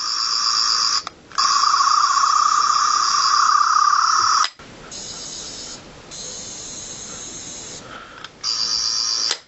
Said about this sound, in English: these are actually the sounds from the 9th and 10th Doctor screwdriver